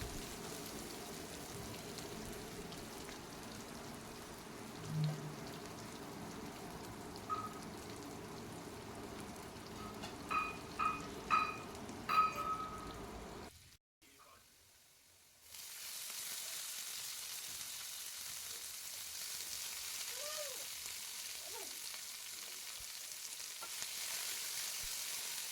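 Onions, chopped tomato and a few curry leaves cook in a pan for a ridge gourd gravy. Faint frying and light spoon clinks are followed by a brief pause, then a soft, steady sizzle.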